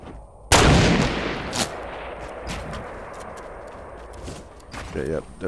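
Fortnite gunfire crackles in sharp, loud bursts, with a big opening shot and then scattered cracks. Excited players talk over the shooting throughout.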